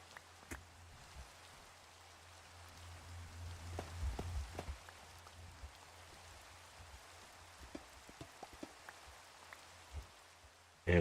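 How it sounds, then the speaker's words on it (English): Rain falls in a Minecraft world, a faint, steady patter with scattered drops and soft ticks, no talk over it. "And of course it's raining now."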